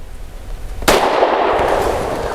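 A single loud, sharp gunshot from a BUL Armory SAS II Ultralight 3.25 pistol cracks out partway through, followed by a lingering outdoor echo over steady background noise.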